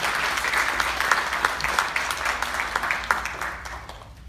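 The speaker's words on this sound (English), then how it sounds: "can we give a round of applause for our interns" A round of applause for interns at a Multicultural and Dream Center event, many hands clapping densely and steadily for several seconds before starting to thin out toward the end.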